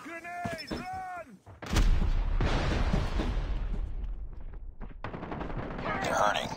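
A grenade goes off in Call of Duty: Mobile, a sudden loud blast that rolls straight into sustained heavy gunfire and further explosions, with a brief burst of game voice just before it.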